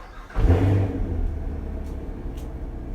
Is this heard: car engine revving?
yes